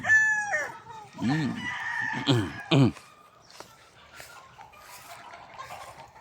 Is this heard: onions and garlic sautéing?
no